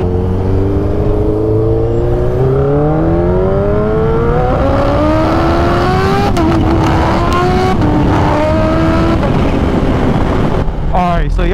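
A Kawasaki Ninja H2 motorcycle accelerates hard, its loud engine climbing through rising pitches close to the microphone with brief breaks at gear changes. Wind rushes underneath throughout.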